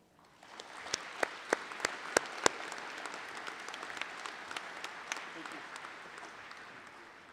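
An audience at the 2022 Greater Buffalo Sports Hall of Fame induction ceremony applauds a new female inductee. Steady, fairly soft crowd clapping carries several sharp, close individual claps standing out near the start.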